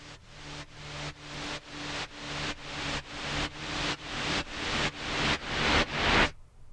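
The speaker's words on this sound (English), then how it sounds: "this saw filter noise os, which I just made this effect, kind of this reverse noise fade in sound" Repeated reverse saw-filtered noise swells, about twelve short bursts that each fade in and cut off sharply in a steady rhythm over a low sustained drone, ending abruptly. Built as a trailer-music effect.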